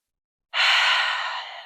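A single deep breath during a mid-day yoga session, audible as a long, soft, airy exhale that starts abruptly and slowly fades, close to the microphone with no other sounds.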